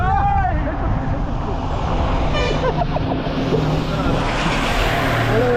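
A road vehicle approaches with a short horn toot near the start and a steady engine and traffic rumble building underneath, while people talk over it.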